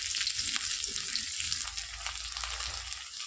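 Garlic and onion fry with fenugreek seeds in hot oil in a pan, giving a loud continuous close sizzle with faint crackles throughout and no talk.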